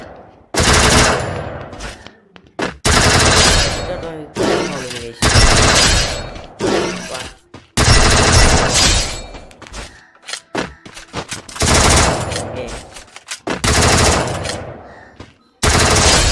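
Thompson gun firing in the Free Fire video game, loud bursts of rapid automatic gunfire repeating in quick volleys with short gaps between them.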